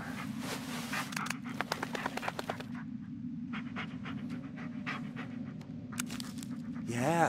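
A dog pants in the video game Blair Witch, quick rhythmic breaths that sit close and clear at first, then fade into a steady low ambient hum with occasional scraping.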